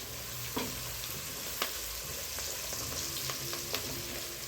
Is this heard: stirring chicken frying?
yes